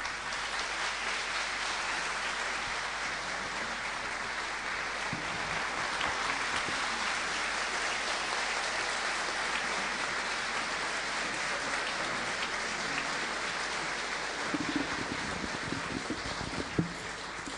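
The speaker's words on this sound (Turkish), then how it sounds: "Ben e, hocamıza sizden bir alkış daha rica ediyorum efendim." An audience claps steadily for a teacher at a Republic Day celebration in Manisa, Turkey, a dense, continuous wash of applause that carries on unbroken for the whole stretch.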